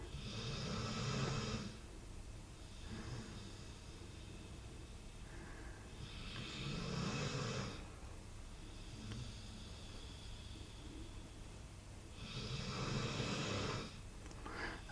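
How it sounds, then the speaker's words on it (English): A bulldog snores nearby in three long, loud rhythmic breaths, each a rasping inhale, separated by quieter pauses, with no talk. "if you can hear snoring in the background, it is Reggie"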